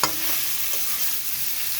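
Raw banana and potato sizzle steadily in hot oil, a dense, close frying hiss that holds constant from start to finish with no voices.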